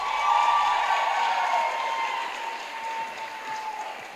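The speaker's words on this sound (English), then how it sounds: "Can we give a round of applause for our contestants and their answers?" Sustained applause from the audience at the Miss Malawi grand finale in a hall in Lilongwe, steady and full for a few seconds, gradually thinning toward the end.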